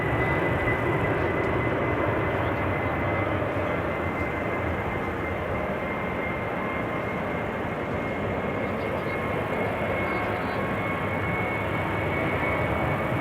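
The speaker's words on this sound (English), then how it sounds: "This is KLM flight 1955, 737-800 to Athens." A 16-year-old KLM Boeing 737-800 jet departs Amsterdam Schiphol for Athens, its engines giving a steady, broad roar that holds at an even loudness throughout.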